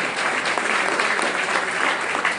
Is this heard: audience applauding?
yes